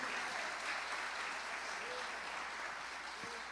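A church congregation clapping for Jesus during a sermon, a steady, distant, diffuse wash of many hands in a reverberant hall, low in level with faint voices mixed in beneath.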